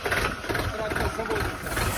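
A newly assembled Skaut TE 504 tractor engine starts and idles with a steady, rough low rumble, close and continuous, with no one talking over it.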